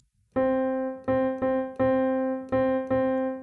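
A single repeated piano note plays a rhythm of quarter and eighth notes, six clear struck attacks with ringing decay, close and alone.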